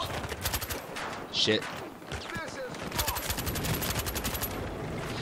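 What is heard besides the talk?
gunfire from a gun with heavy recoil in Battlefield Hardline video game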